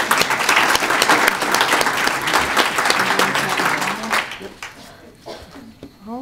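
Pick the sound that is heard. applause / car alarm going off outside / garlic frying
applause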